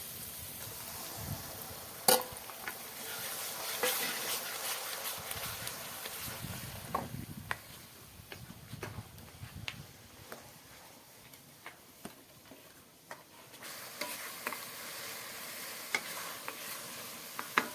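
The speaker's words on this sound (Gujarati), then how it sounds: "આવી રીતે ફૂલ પાકી જાય એટલે હવે આપણે ટમેટાની ગ્રેવી નાખી દેવાની." Tomato gravy poured into a pan for a green chickpea curry sizzles softly while a spoon scrapes and taps at irregular intervals, all fairly faint and close.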